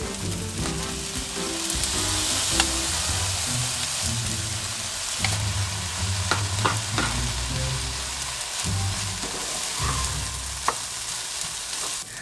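Kimchi fried rice sizzles and fries in a pan, a continuous close hiss broken by scraping and stirring clatter and occasional sharp ticks from the utensil.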